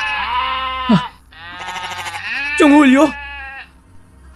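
Goats bleat in a few wavering, nasal calls, one deep and drawn out near the end, over a low steady hum while a person speaks.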